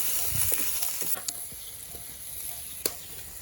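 Cauliflower and drumstick pieces are stirred in a hot pan, giving a soft, steady sizzle with a few light scraping taps of the spoon, quiet and close.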